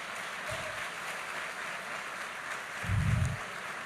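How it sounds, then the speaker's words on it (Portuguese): A church convention congregation applauds steadily in a large room, a broad wash of clapping with a few low thumps near the end. "Podemos aplaudir Jesus, minha gente?"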